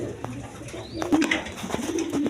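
Pigeons kept for sale at a breeding farm coo in soft, low, rolling calls several times over a short stretch, close by.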